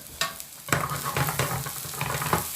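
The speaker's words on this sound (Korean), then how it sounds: "베트남 고추나 페페로치노 이렇게 으깨서 넣어주세요." Crushed Vietnamese chili or peperoncino dropped into hot scallion oil, a loud close crackling sizzle that flares up suddenly and keeps popping in quick bursts, no talking.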